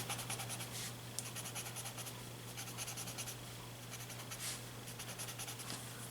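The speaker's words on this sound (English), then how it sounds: "taking my tortillon that is marked for the white charcoal" A paper tortillon blending white charcoal into drawing paper, making soft, close, continuous scratchy rubbing strokes in a quiet room.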